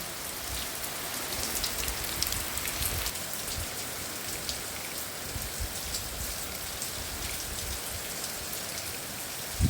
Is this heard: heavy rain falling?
yes